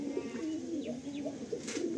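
Pigeons kept in a Kolkata loft coo steadily and close, a dense layered murmur of throaty rolling calls with a few brief brighter chirps over it.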